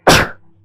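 A single sharp sneeze, loud and close, bursting out suddenly and trailing off quickly into quiet.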